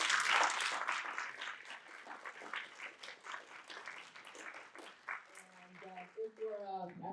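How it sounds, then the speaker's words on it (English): A seminar audience applauds a panel, a crisp burst of clapping that fades over several seconds as a voice starts talking over its tail. "we just give our panel a big round of applause"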